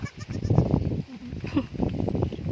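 A newborn goat kid bleats on a rural provincial farm, giving a few short, thin wavering cries close by, mixed with people talking nearby.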